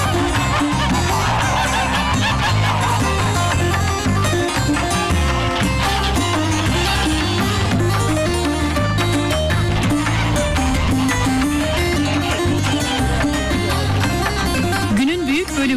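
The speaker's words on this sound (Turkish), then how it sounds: "Binlerce kaz hem sesleriyle hem de sevimli halleriyle sokak aralarından köy meydanına iniyor." A large flock of village geese in Kars honks continuously and loudly as the birds stream through narrow streets to the square, a dense, overlapping chorus that fills the whole scene.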